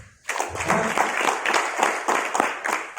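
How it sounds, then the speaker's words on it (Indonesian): An audience at a talk on selling to Gen Z breaks into applause, a sudden onset of moderately loud clapping that swells and pulses for a few seconds. "Mungkin mau tepuk tangan dulu kali ya"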